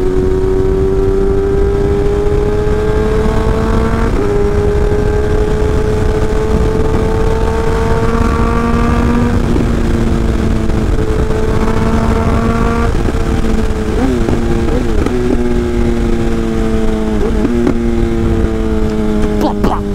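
A car engine revs loud and close, droning with rising and falling pitch, while a few sharp exhaust pops and crackles break through in the later part.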